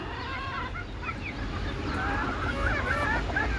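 Native deshi chickens kept semi-confined cluck and call in a steady overlapping chorus, with several birds close by over a constant low rumble of background noise.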